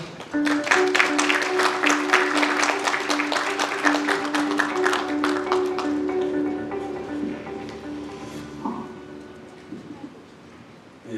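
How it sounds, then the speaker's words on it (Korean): A crowd at an industrial complex investment briefing claps steadily for several seconds, the applause loud at first and gradually thinning and fading out. "여러분 박수로 환영해 주십시오."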